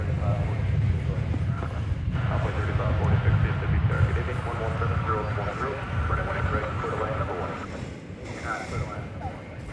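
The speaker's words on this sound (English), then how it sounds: "Right over there, you've got your Airbus A321." An American Airlines Airbus A321 at DFW Airport, a broad continuous jet roar with wind-like rumble and some fluctuation, steady and fairly loud throughout.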